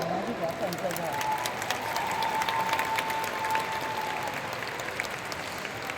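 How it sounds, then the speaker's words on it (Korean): Audience applause for a company's staff team at a corporate presentation, a steady wash of clapping that runs throughout, with crowd murmur mixed in. "큰 박수 보내주시죠."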